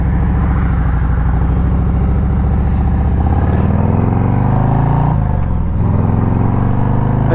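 A Harley-Davidson Street Glide motorcycle fitted with a Klock Werks Flare windshield rumbles loudly while riding, its deep, throbbing engine note holding steady with slight shifts in pitch partway through, and no speech.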